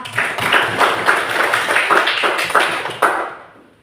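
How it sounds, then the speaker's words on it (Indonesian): Students in a classroom clapping for Nona Mawar, a brief burst of irregular claps from a small group, fairly close, fading out at the end. "Kita memberi tepuk tangan dulu untuk Nona Mawar."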